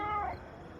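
A cartoonish cat yowl from the video game President Rocket, one short drawn-out meow that falls away quickly, loud and close with no other sound around it.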